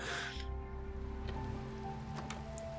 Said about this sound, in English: Oh, it is raining. Of course it's raining.